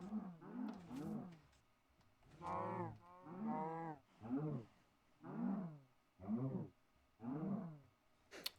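Cows mooing in a hardcore survival video game, a series of about seven drawn-out, harmonic moos in steady succession, fairly close and loud with no talking over them.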